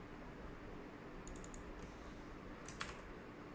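Faint, sparse clicks of typing on a computer keyboard while coding, a few quick key presses in short bursts against a quiet background hiss.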